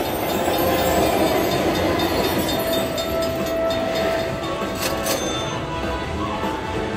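A steady, loud rush of train noise from a Timber Wolf slot machine's bonus feature in a casino, with a faint rail clatter and a brief whistle-like tone running continuously under the game's ambience.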